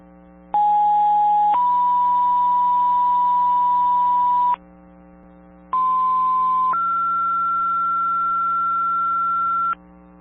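Two-tone fire dispatch alert tones go out over a radio to page the Goshen and Antrim fire departments in New Hampshire: two loud, steady sequential tone pairs, each lasting several seconds, separated by a short gap, over a low electrical hum.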